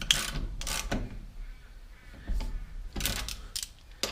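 A socket wrench ratchets as a bolt is tightened, giving short bursts of close mechanical clicking separated by brief pauses, with no talking.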